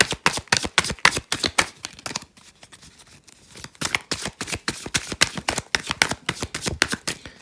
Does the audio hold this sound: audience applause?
no